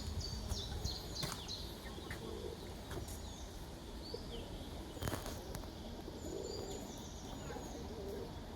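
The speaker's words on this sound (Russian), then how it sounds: "Вон тут сколько голубей. Их тут кормят, приходят." Pigeons coo softly by a river bridge amid faint bird chirps, distant clatter and steady outdoor background noise.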